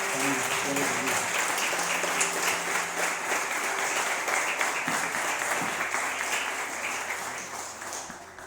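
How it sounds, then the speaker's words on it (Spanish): A church congregation at a Spanish-language service applauds steadily and fairly loudly for several seconds, with a few voices mixed in, before the clapping tapers off near the end. "Un aplauso para"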